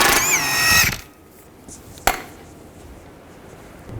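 Power tool driving an 18mm socket to remove an outer tie rod nut on a 2010-2017 Chevrolet Equinox, a short loud whirring burst up close, then quiet with a single sharp click.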